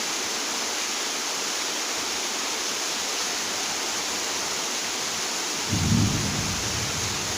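Steady rain pours without a break, a dense, even wash of falling water, and near the end a low rumble of thunder swells in beneath it. Nobody speaks.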